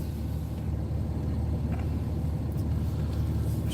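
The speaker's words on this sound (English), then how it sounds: "I'm driving Mom's Cadillac." Steady low road rumble inside a moving Cadillac car, a constant muffled drone of tires and engine heard from the cabin with no speech.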